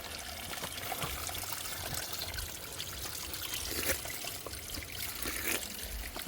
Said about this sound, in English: A natural water source.